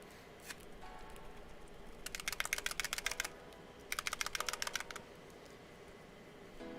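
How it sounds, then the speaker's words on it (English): Stainless steel ball bearings inside a paint bottle rattle as it is shaken, in two quick bursts of rapid, faint metallic clicking against a quiet room background. "that is simply the stainless steel ball bearings I've thrown in each of my bottles to help with mixing"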